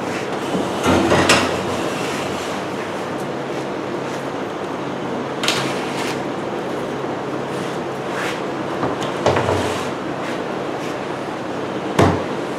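A glued plywood dog house panel is handled and flipped over in a workshop, with a low rumbling background and several sharp knocks and thumps of wood scattered through, the loudest near the end.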